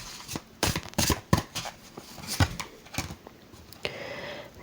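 Tarot cards being shuffled and laid out on a surface, a series of quick papery riffles and soft slaps in uneven bursts, close and fairly clear, no talking.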